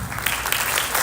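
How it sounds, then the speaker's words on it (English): A school audience applauding Assistant Principal Angela at a high school sophomore and junior orientation, a brief, dense burst of many hands clapping, loud and continuous. "Warm round of applause for Assistant Principal Angela"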